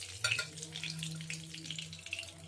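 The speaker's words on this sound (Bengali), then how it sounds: "ওই তেলেই ভেজে নেবো, তেল আর দেবো না" Tilapia fish fry in hot oil, giving a steady crackling sizzle close by with a low hum underneath and a few sharper spits, no voices.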